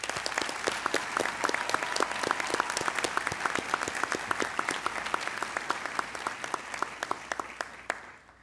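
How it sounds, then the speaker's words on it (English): Graduation-ceremony audience at Westlake Academy applauds the graduates, a dense, steady wash of many hands with sharp individual claps standing out throughout, fading slightly at the end. "Let's give them a round of applause."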